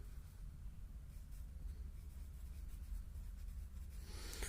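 Pen or pencil writing a word by hand on paper in a primary-school maths lesson, a faint, steady scratching with small rubbing strokes, quiet and close, with no talking.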